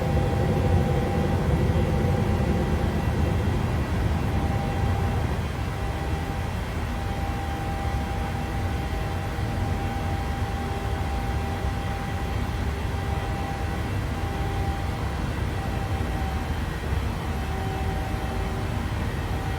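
Boeing 737 jet engines in the PMDG flight simulator climbing after takeoff, a loud continuous roar with steady whine tones that settles slightly lower after the first few seconds, heard alone.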